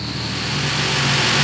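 The Bigfoot monster truck launching off the start line in a night race at an arena event, a loud, steady engine roar that builds slightly as it accelerates, with no talking.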